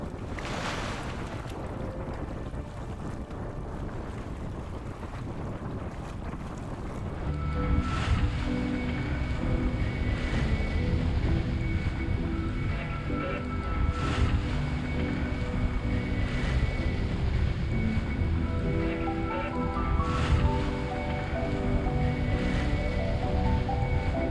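Steady wind roars across the microphone with waves sloshing against a sailboat's hull as it sails upwind under staysail in Patagonia's Canal Smith, with a few sharper splashes and gusts along the way.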